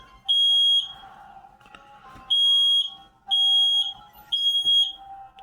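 Smoke alarms shrill in a game in four loud, piercing bursts separated by short gaps, with faint background noises between the beeps.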